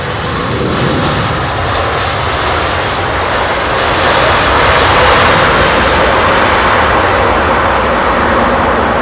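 An airliner on approach to London Heathrow runway 27R, a loud, continuous jet engine roar that builds and holds close by, with no talk over it.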